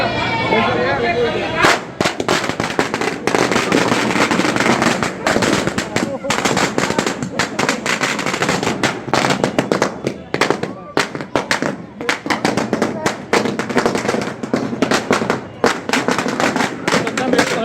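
Firecrackers bursting at a dargah Urs festival, a dense, loud, continuous string of sharp cracks and pops lasting throughout, with crowd voices and talk faintly mixed beneath the barrage.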